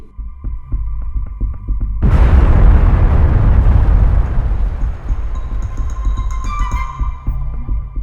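A loud explosion from an attack on an Israeli tank in eastern Khan Younis war footage: a low throbbing rumble, then a sudden heavy blast that roars and slowly decays into a lingering rumble with faint tonal whine.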